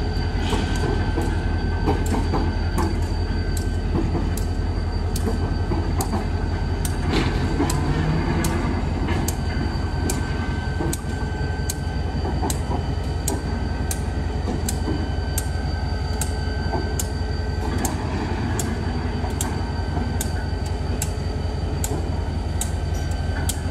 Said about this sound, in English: The engine rolls onto the turntable, and once it's balanced,